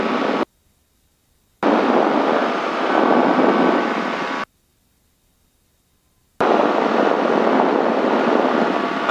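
A light aircraft's engine drones loud and steady during a takeoff roll from Buchanan Field in Concord, cut by two abrupt gaps of near silence.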